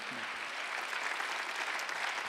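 A church congregation claps during a Korean Thanksgiving Sunday worship service, a brief, steady wash of applause heard faintly and at a distance.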